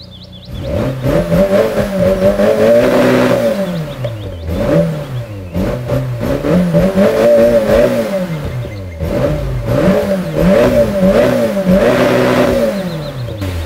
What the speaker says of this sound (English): Engine roars to life.